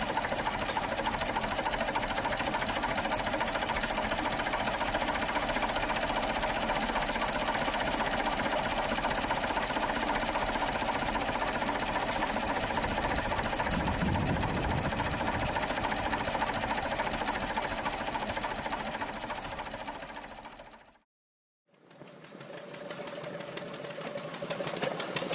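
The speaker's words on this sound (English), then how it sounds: "the JP4 remains a respected legacy engine in stationary applications" A JP4 stationary diesel engine runs at a steady, rapid, mechanical chug for a long stretch. The sound cuts out briefly near the end, then resumes more quietly.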